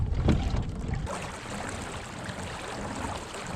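A fishing boat running down a lake, with steady broadband motor and hull-on-water rush, close and loud, a heavier burst at the start settling into a constant wash.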